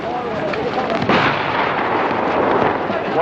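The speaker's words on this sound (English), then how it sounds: "The commissar shot himself. Deliberately, through the head." A gunshot in a 1937 film scene where a commissar shoots himself: one loud, sharp crack cuts abruptly through a dense, noisy soundtrack and fades into continuing rumble.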